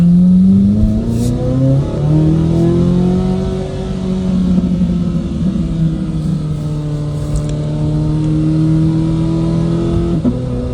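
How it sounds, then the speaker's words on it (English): A 2026 Corvette Z06 engine pulls hard through rising revs, its tone climbing, dipping briefly at a gear change, then climbing again, loud and close throughout. "Yeah, this car sounds dope."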